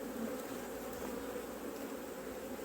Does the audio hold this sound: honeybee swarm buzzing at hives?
yes